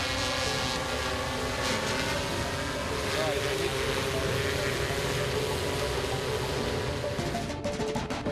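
A swarm of military drones flying at a test airfield, giving a steady broad whirring drone with wind-like noise that holds at a moderate distance throughout.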